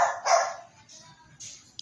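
A stray mixed-breed dog gives a couple of short barks up close at the start, followed by quieter yips and a faint sharp sound near the end.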